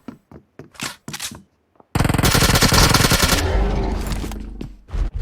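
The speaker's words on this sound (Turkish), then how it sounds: "Buradan birisi sıktı bana." Loud automatic gunfire from the PUBG Mobile video game rips out in one sustained burst. A few short, sharp clicks and bangs come before it, and the burst trails off at the end.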